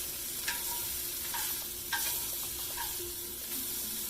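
Seared scallops sizzling hard in a hot pan after being flipped, a dense steady hiss with a few sharp spatula clicks and taps scattered over the crackle, close and without talk.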